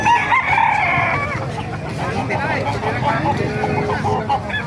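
Roosters crow loudly and close by at an outdoor chicken market in Calumpit, Bulacan. Long, harmonic calls overlap, with people talking and market chatter underneath.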